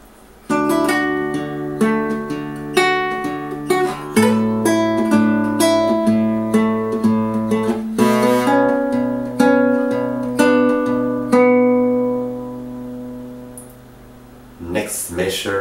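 Fingerstyle acoustic guitar plays a passage of a piece from Lord of the Rings, with a steady run of plucked notes over sustained bass tones that ends in a brief strum burst.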